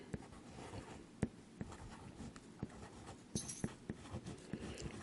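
A bamboo calligraphy pen nib scratches across paper in short strokes, with sharp ticks where the nib meets the page between soft, faint scraping in a quiet room.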